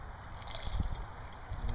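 Wort from a homebrew porter streams and drips off a lifted grain bag, a soft, close gurgling trickle with small splashes that pick up in brief bursts.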